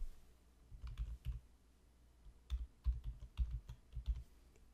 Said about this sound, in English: And you have to type your email here